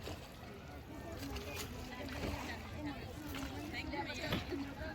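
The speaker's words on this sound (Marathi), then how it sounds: "समोरून एक नाव येत आहे" A boat rumbles on a wide river at Pandharpur under cloudy monsoon skies, its steady engine-like drone mixed with splashing and wind noise, while voices murmur faintly in the background.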